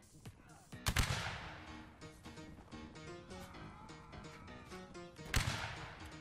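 Musket volleys ring out at skirmishers in Mount & Blade Warband's Napoleonic Wars battle, two sharp loud blasts several seconds apart over a steady tonal game backdrop.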